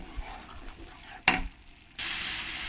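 Potatoes frying in a pan with spice masala, stirred once with a brief scraping stroke, then a steady soft sizzle rising near the end.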